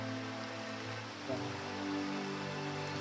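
Rain falls steadily as a constant hiss, with a low engine hum running underneath.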